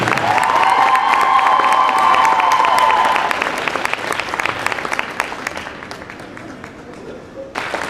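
At a high school girls basketball game, a gym crowd applauds the dance team seniors, loud clapping with cheers and shouts that gradually thins out, voices heard in the crowd.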